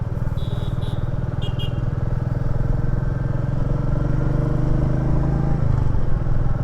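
A single-cylinder Royal Enfield Meteor 350 motorcycle engine thumps steadily at low revs while cruising, a loud, close, even rumble throughout.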